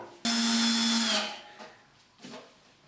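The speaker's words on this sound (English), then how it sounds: "I am now going to place a second screw in the timber on this side." A power drill whines loudly for about a second as it drives a screw into timber for a wooden garden gate, then winds down, followed by two short, quieter bursts of drilling.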